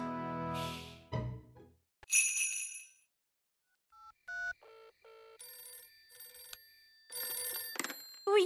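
A cartoon telephone ringing in a children's animated show set in a little kingdom, bright electronic ring bursts broken by pauses, mixed with other chimes and sound effects, fairly loud and with no speech over it.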